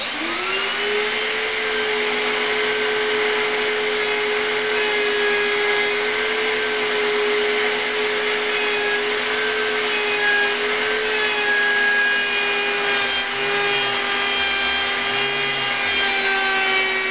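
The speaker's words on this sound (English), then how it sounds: "I've got my router so I can hook it up to my vacuum" A steady, loud power-tool whine runs throughout with a constant vacuum-like roar underneath, a router cutting wood while suction hums along.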